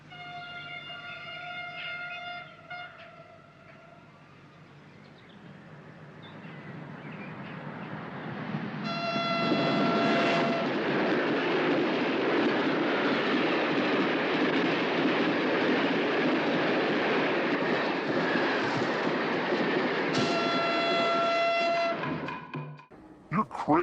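Passenger train from the 1963 film Charade, with a steady loud rumbling roar of wheels on rails that builds midway and carries on, and a sustained horn-like tone sounding at the start, middle and near the end.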